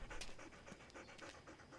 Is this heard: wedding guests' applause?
no